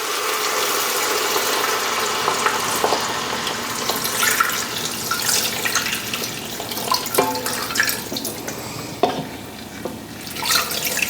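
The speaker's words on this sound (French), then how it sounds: "rajouter de l'eau." Water running from a tap onto frozen vegetable scraps in a bowl for homemade broth, a loud continuous close splashing rush with small clinks and shifting pieces throughout.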